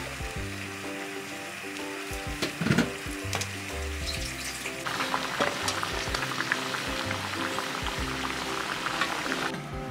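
Green onion egg roll (tamagoyaki, three eggs) sizzling steadily in a buttered pan, a continuous close frying hiss with occasional clinks of utensils, no talking.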